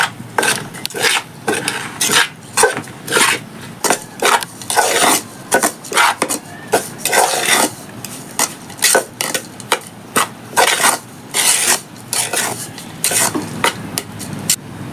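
Rice flour dough for village-style kolukkattai being stirred and kneaded by hand in a vessel, a loud, steady run of rhythmic rasping, scraping strokes repeating close by with no talk.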